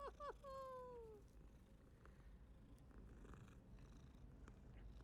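A cat in a video game gives a short meow and then purrs steadily, a soft low rumbling that carries on close and quiet through to the end.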